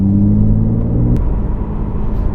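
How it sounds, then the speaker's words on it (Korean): A new BMW 4 Series sports sedan's engine runs with a steady low hum and drone, a tonal note holding then dropping away midway as the rumble continues close and loud. "지금 이제 이 엔진 돌아가는 소리가 표현이 될지는 모르겠는데"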